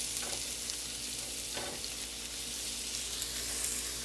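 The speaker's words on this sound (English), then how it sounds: "I'm just going to saute my Swiss chard with that" Swiss chard sautéing with tomato in a hot pan gives a steady, close sizzle and hiss throughout, with a few faint clinks of a utensil against the pan and no talking.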